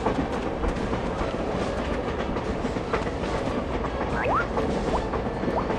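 A train rumbles past in the Boy and His Blob video game, a continuous loud rolling clatter of wheels with a few faint squeals over it and no talking.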